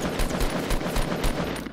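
Gunfire in the Fortnite video game fires as a rapid, loud burst of repeated shots in a quick rhythm lasting under two seconds.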